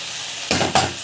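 Mint and coriander leaves sautéing in a pan for chutney: quiet background, then two short bursts of sizzling and stirring scrapes close by, without speech.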